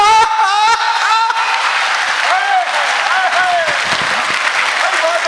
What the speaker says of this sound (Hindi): आप ताली कम बजाई आपने